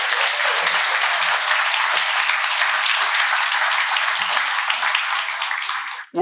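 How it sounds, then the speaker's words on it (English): An audience at a live storytelling event breaks into sustained, dense applause that holds steady for several seconds and then cuts off sharply. "Let's give John another round of applause."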